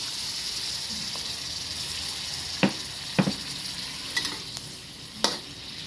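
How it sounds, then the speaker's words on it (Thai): Chicken offal stir-fries in a hot pan for Thai basil stir-fry, a steady sizzling hiss under scattered scraping stirs and clinks of the utensil as mortar rinse water goes in. "ก็ใส่นี่เลยครับ น้ำล้างครกครับผม"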